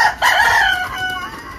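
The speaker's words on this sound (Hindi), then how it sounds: "ओहो मुर्गा बोलिया" A rooster crows once nearby, a loud drawn-out call that tapers off, with no talking.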